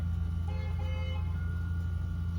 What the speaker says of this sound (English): it's that truck going off